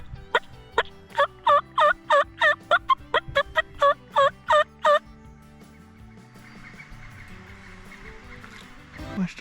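A wild turkey gobbles repeatedly outdoors on public hunting land early in the morning, a rapid series of loud, rattling calls in quick bursts that stop after a few seconds, leaving quiet ambient background.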